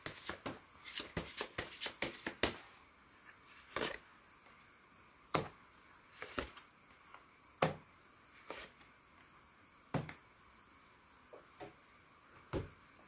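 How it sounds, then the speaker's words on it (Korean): Tarot cards shuffled and drawn, a quiet run of sharp flicks and riffling snaps, quick and clustered at first, then spaced-out single taps and slides with silence in between. "그럼 조언점 카드 한번 뽑아보도록 할게요"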